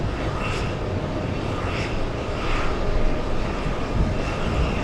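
An airliner taking off from runway 22 right at JFK Airport makes a loud, steady jet roar that holds for the whole stretch. It swells slightly near the middle, and no one speaks over it.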